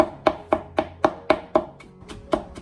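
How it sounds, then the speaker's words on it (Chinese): A kitchen knife chops smashed garlic cloves and a piece of old ginger into fine mince on a board, about ten sharp, evenly spaced knocks, close and clear with no talking. "接着全部剁成稍微细一点的姜蒜末"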